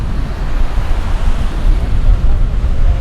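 Ocean surf rushes continuously in a loud, steady roar, with heavy wind buffeting the microphone and no distinct breaks between waves.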